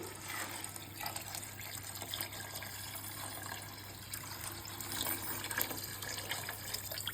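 Water poured into a cooking pot for biryani, a steady continuous splashing and gushing that runs evenly throughout at moderate level, with no talking.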